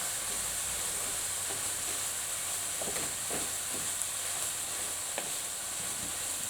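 Flour being stirred into stock in a cooking pan for shepherd's pie, a steady sizzling hiss with a few soft scraping stir strokes, close and continuous with no talking.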